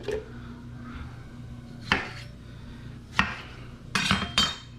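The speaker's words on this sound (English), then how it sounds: "So I'm gonna chop this up a little bit so I can just throw this in the blender." Onion, garlic and tomato chopped with a knife on a board, four or five separate firm thuds spaced unevenly, close up and alone, the last ones coming in a quicker burst.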